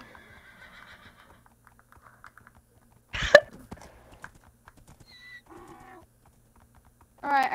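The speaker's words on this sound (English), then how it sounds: "I'll tie up your horses." Minecraft horse sounds: a sharp hoof clop, a short neigh and a later whinny, separated by quiet game noise with brief soft clicks and no talk.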